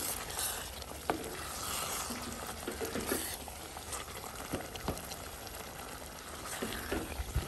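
Prawns frying in coconut oil with masala, a steady close sizzle and crackle with occasional soft taps and spatters, fairly quiet and without speech.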